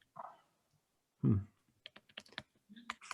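Computer keyboard keys are pressed in a quick, irregular burst of sharp clicks during an online meeting, following a brief voice and a thump.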